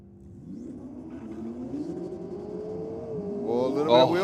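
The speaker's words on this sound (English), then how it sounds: "They do have a very distinct engine note, don't they?" A Porsche drift car's engine revving at an Australian Drift Club meet, its note climbing steadily and loudly toward a higher-pitched whine as it accelerates away, heard close with a voice talking over it near the end.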